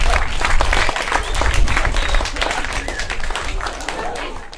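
An audience at an artist residency event gives a dense round of clapping that swells and fades slightly, with some crowd murmur mixed in.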